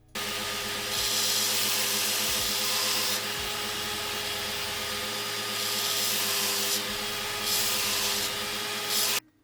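An Affe drill bit grinder sharpens a drill bit with a steady, close whirring hum and a harsh hissing grind that swells and fades in several passes, with no voices over it.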